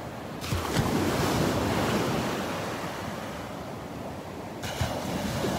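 Small ocean waves break and wash steadily onto a Gulf beach during a red drift algae bloom, a loud continuous surf rush with wind buffeting the microphone and no voices.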